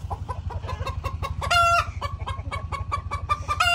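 Chickens cluck repeatedly in quick, rhythmic bursts, close by, with a louder squawk partway through and a steady low hum underneath.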